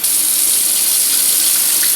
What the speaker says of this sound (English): We're going to give them one more rinse just to rinse off some of that starch.